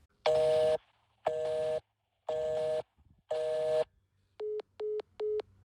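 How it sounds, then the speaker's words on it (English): A telephone busy signal sounds as four even tones, each about half a second, separated by equal gaps. Three shorter, higher beeps follow in quick succession. "when you call it back today, it just produces a busy signal"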